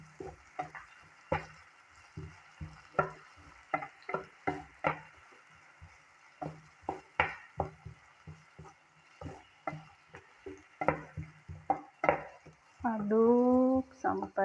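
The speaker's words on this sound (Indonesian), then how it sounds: "aduk sampai nanti ada warna-warna, sampai layu ya guys bawang bombaynya." Onions frying in a pan while being stirred, with repeated sharp scraping and clattering strokes of a utensil over a soft background sizzle, close and fairly loud, ending in a brief sustained tonal squeal.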